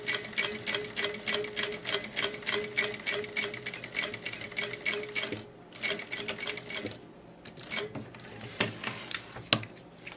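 A sewing machine stitching a fabric bag runs in fast rhythmic mechanical bursts, clattering steadily, pausing briefly, then resuming in shorter runs; faint talk may be underneath.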